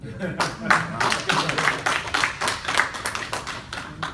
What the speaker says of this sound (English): That's a hand clap.